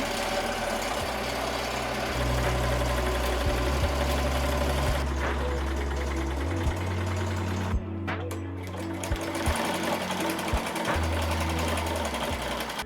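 An embroidery machine stitching a hoodie design at roughly 700 stitches per minute, a close, loud mechanical hum and rapid chatter that shifts pace partway through, running with no voices.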